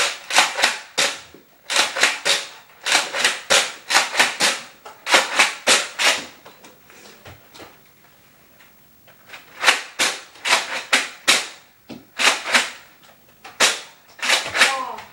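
Nerf blasters fire during a backyard-style Nerf war, a fast string of sharp, close snapping shots in two clustered bursts separated by a quiet pause, with children's voices mixed in.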